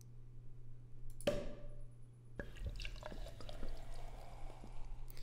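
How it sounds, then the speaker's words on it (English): A champagne cork pops once, followed by liquid pouring and fizzing into a glass, a quiet computer sound effect from a Windows 20th Anniversary theme's recycle bin. "So not only is it the cork popping, but it's actually pouring a glass."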